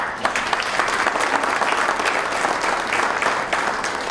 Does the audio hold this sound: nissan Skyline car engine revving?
no